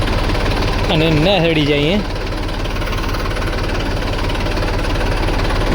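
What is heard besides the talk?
tractor engine starting and idling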